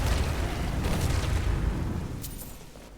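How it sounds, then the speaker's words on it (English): Magic explosions set off in Skyrim, a loud sustained booming rumble with bursts layered through it, slowly easing off toward the end, with no speech. "I was just setting off explosions in my face"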